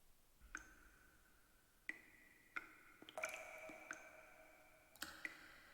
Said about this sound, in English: I heard the water droplets in the end of the beginning.